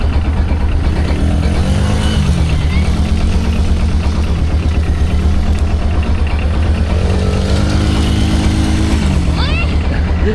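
A car does donuts in sand. The loud engine drones and revs up and down in waves, heard close and continuous with constant wind-like rumble, and voices are faintly mixed in.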